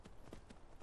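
Horse hooves in Skyrim VR crossing snowy ground during a blizzard, four faint, evenly spaced clip-clop thuds over a soft windy hiss.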